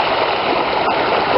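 River stream flowing at a fording point in the Scottish Highlands between Glenfinnan and Inverie: a steady, close, broadband rush of water with no break and no voices.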